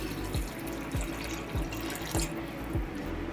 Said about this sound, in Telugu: సరిపడే అన్ని వాటర్ పోసుకోవాలి